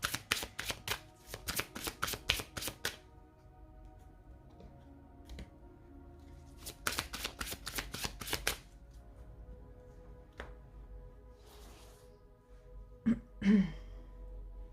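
Tarot cards being shuffled for a card reading, two bursts of rapid riffling clicks at moderate volume separated by quiet stretches, with a few soft handling taps and no talking.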